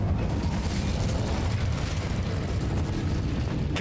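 Fire spell Incendio cast in Hogwarts Legacy, a steady roaring blast of flame that holds loud and dense throughout without pause.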